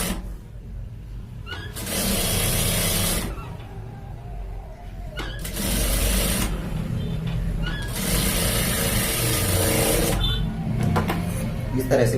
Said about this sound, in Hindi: इस तरह से बूट की सिलाई लगाएंगे।